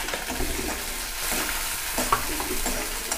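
Onions, green chillies and curry leaves fry in a pan for upma with a dense, steady sizzle and crackle, broken by faint stirring scrapes, close and continuous without any voices.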